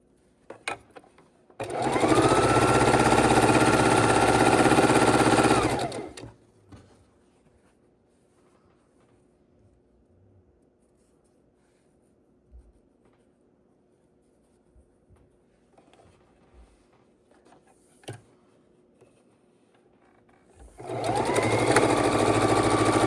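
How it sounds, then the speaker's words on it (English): A sewing machine stitching quilt rows together runs in two loud, steady bursts, one of about four seconds and another near the end, with quiet handling and fabric rustle in between. "we're sewing rows together, matching up their seams"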